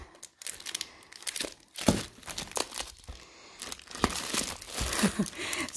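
Crinkly filler paper from a Happy Planner Squad Box being handled and shuffled nearby, giving a run of uneven rustling and crackling bursts with brief quiet gaps.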